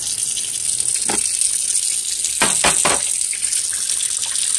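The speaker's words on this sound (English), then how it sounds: "I'm gonna get my hot water going again" Hot water runs steadily from a tap into a kitchen sink, a constant close hiss and splash with a few clinks and knocks of dishes or the drain plug over it.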